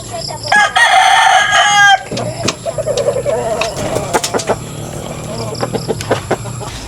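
A rooster crows loudly near the start, followed by scattered hen clucks and farmyard chatter, with a voice briefly speaking in the background.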